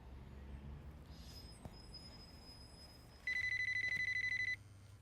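A telephone rings indoors, a faint electronic trill that repeats in fast pulses for about a second, over low background noise and an earlier thin tone.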